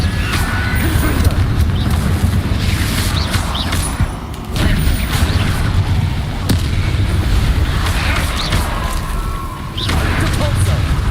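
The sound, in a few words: Confringo blasting spell explosions, Hogwarts Legacy video game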